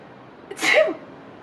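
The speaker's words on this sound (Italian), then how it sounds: "Fammi un po' lo starnuto." A single sharp sneeze from a person, brief and close, with a quick inhale leading into the burst against a quiet background.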